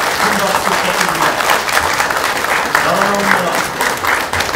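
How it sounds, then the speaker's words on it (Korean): Loud, sustained audience applause fills a crowded hall as a presidential candidate enters a campaign rally, steady dense clapping throughout with faint voices mixed in. "후보께서 입장하고 있습니다. 큰 박수 부탁드립니다."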